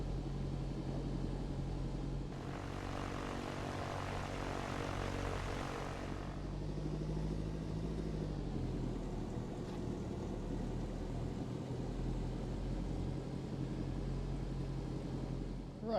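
A small propeller aircraft in X-Plane 12 taxis toward the departure end of runway 22, its engine drone steady and low with a brief surge of brighter prop noise early on, then a settled rumble.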